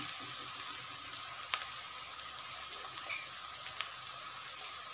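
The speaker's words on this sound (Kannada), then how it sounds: "ಚೆನ್ನಾಗಿ ಎಲ್ಲ ಗೋಲ್ಡನ್ ಬ್ರೌನ್ ಬರೋವರೆಗೂ ಫ್ರೈ ಮಾಡ್ಕೋಬೇಕು." Food for masala chitranna fries in a pan toward golden brown, giving a steady, faint, even sizzle with a few tiny pops and clicks, and no talk.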